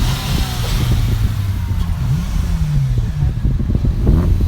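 A car engine at a Cars and Coffee meet revs loudly nearby, climbing and dropping in several quick throttle blips over a constant rumble.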